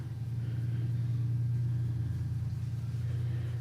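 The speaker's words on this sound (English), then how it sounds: "The obligatory rumbly truck from the neighbor." A neighbor's truck idles outside with a steady, deep low rumble, constant and moderately loud with no voices over it.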